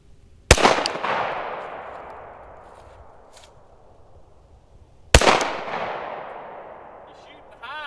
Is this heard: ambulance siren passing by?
no